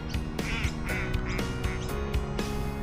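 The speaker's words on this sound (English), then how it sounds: "Yeah, the ducks laughing at me." Ducks quack repeatedly in a lively, overlapping chorus, close by and fairly loud, with no talking.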